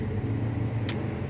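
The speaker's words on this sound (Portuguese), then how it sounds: "Tá barulho, né? A gente tá na beira da pista." Road traffic beside a highway gives a steady low rumble of passing vehicles, with one brief sharp hiss near the end, heard alone with no talking.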